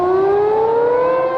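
Tsunami warning siren blaring in Japan, a single loud sustained wail slowly rising in pitch, heard alone.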